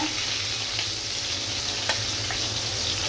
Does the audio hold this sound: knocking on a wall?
no